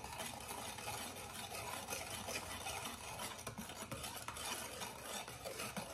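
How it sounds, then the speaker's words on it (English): Flour, baking powder and salt are stirred together in a bowl for blueberry muffins, making a continuous soft scraping and rubbing with faint utensil clicks against the bowl, close and quiet. "We're gonna stir those 4 ingredients together in a bowl."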